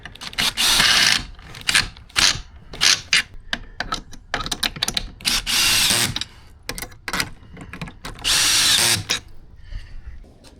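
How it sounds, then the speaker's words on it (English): Power drill boring out a hole with a 3/8 bit while fitting towing mirrors on a 2014-2019 Chevrolet Silverado or GMC truck, with three strong whirring bursts broken up by clicks and handling rattles, close by. "take like a 3/8 drill bit, 5/16 to 3/8, and drill that out"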